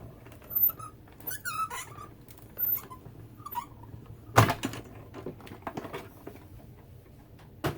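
Embossing plates are cranked through a die-cutting machine, giving squeaky creaks and ticking clicks, then a sharp clunk midway followed by faster light ratcheting taps, close and fairly quiet.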